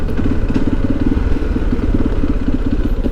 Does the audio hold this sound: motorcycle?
yes